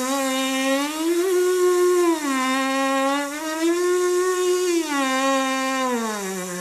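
A trumpeter's lips buzz without an instrument, a steady nasal drone sliding slowly up and down in pitch over several seconds, loud and close with no talk.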